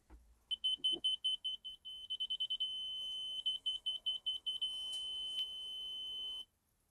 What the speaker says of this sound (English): As you can notice, the beep is getting faster and faster.